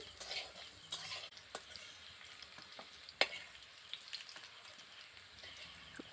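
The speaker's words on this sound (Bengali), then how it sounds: "এবার আমি ওই তেলের মধ্যেই আলুটাকে ভেজে নেব" Quiet, steady sizzling of food frying in oil, dotted with small pops and a few sharp clinks of stirring.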